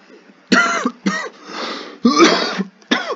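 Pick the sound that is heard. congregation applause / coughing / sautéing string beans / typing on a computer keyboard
coughing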